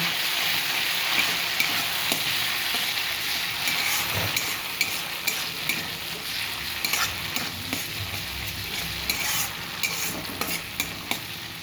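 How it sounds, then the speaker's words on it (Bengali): Spice paste sizzles in a pan for a vegetarian paneer dish while a spoon stirs and scrapes through it, making a steady close frying hiss broken by frequent clinks and scraping taps. "মশলাটাকে একটু ভেজে নিব।"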